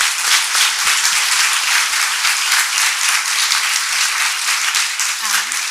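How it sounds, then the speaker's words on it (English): A large audience at a community health and safety research event gives a research panel a loud, continuous round of applause, thick and even throughout, nearby and uninterrupted. "A huge round of applause for this phenomenal"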